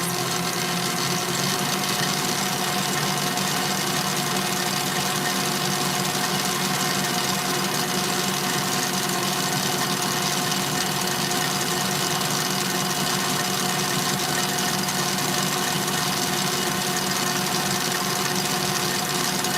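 Stand mixer whipping egg whites and sugar for macarons at speed 6, a steady loud mechanical whir and hum that runs unbroken and close, with no talk.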